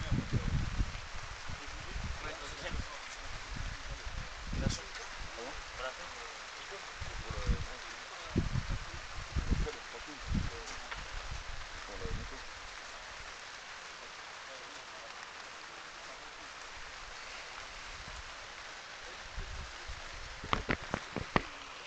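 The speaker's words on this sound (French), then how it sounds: "Finale sous une pluie battante." Heavy rain pours down during an outdoor handi-pétanque final, a constant hiss with scattered sharper patters while a commentator talks over it.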